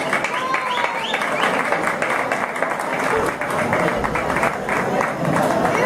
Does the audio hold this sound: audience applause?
yes